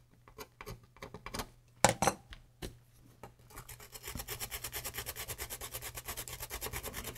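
Corrosion being scraped off the circuit board of a leaky MSD Super Disk Drive SD-1, first as a few sparse scratches and knocks, then a steady, rapid run of close rasping strokes.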